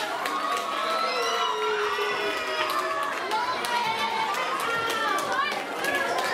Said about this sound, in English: Please give both of our participants a round of applause.